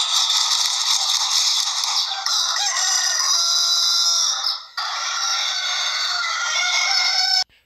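A rooster crows at dawn, a loud, bright, thin-sounding call that runs on for several seconds with a brief dip midway, heard on its own without voices.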